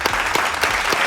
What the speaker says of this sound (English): Let me clap my hand.